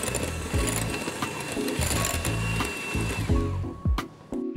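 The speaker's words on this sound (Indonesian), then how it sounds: "kita akan menggunakan mixer untuk mencampurnya hingga rata" Electric hand mixer whirring steadily as it blends chocolate ganache into whipping cream for a tiramisu dessert box, a continuous close motor drone with slight changes in pitch and a short pause near the end.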